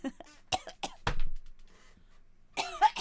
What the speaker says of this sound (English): I've got a cough at the moment